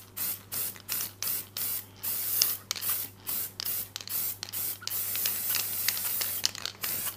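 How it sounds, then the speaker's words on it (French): Colored food spray hisses onto an entremets cake from about 20–30 cm away, in a run of short, evenly spaced bursts that give way to longer, steadier spraying near the end, with no talking. "Et là, je pulvérise en me mettant à 20-30 cm de distance."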